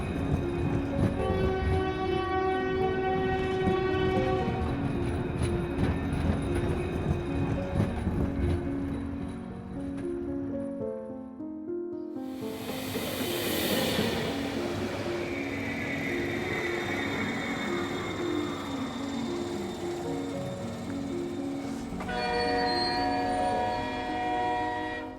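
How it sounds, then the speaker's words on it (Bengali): A train rumbles along the rails with a rhythmic clatter, then a loud horn blares, the sound dipping briefly before the running noise and horn tones return close by. "স্টেশনে সকালে ট্রেনে উঠে পড়ল"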